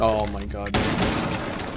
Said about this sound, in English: I shot Grilllock with the shining shield of 1 HP